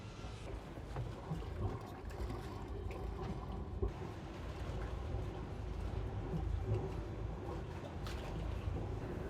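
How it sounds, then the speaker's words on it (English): Linssen motor yacht engine running at idle before departure, a steady low diesel drone mixed with wind and outdoor noise throughout. "Engine is running, so we're ready to go."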